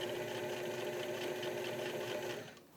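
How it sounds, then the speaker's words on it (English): Sewing machine running a stitch along a band collar shirt, a fast even mechanical whirr with rapid needle clatter, steady and close before winding down at the end. "I'm going to run a stitch along just to make sure it stays nicely in place."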